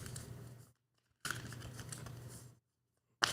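Tarot cards are shuffled close up in two bursts of dense papery riffling and rustling, separated by short silences, with a brief third burst starting at the end.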